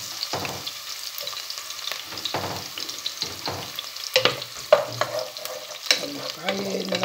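Onions frying in a pan for a home-cooked Filipino sinanglao dish, a crackling sizzle broken by repeated scraping stirs and clinks of the utensil against the pan, close and moderately loud.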